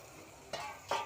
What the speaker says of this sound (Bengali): দেখুন এখন আলুগুলো দিয়ে নিচ্ছে, এখন ভালো করে লাড়াচাড়া করে নিবে।